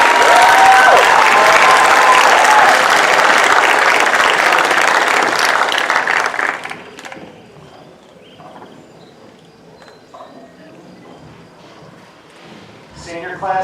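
A high school commencement audience gives the graduates a round of applause, loud dense clapping for nearly seven seconds before dropping away to quiet hall ambience with a few stray sounds at the end.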